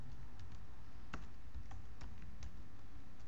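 Someone types on a computer keyboard at a Linux server prompt, giving a quiet run of irregular key clicks, a few sharper taps, over a low steady hum.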